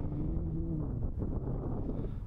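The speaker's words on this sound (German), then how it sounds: "Hier geht der Wind auch doller, also vielleicht hört man den." Strong gusty wind from storm Sabine roars steadily into the microphone on higher ground near many trees, a dense low rumble that stays loud and even throughout.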